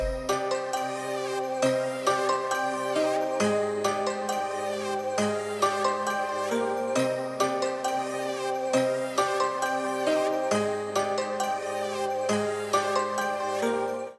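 A rendered beat melody plays in FL Studio, with piano top notes ringing over a bell-like lead in a steady repeating pattern, bright and even, with no voices.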